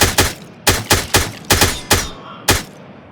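AK assault rifle fire in the video game Miscreated: seven sharp, loud shots in an uneven sequence, some in quick pairs and others spaced apart, each with a brief booming tail and no talk.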